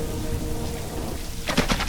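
Rain and thunder in an animated Sikh history story, a broadband rainfall wash rumbling steadily, then a few louder thunder-like bursts near the end.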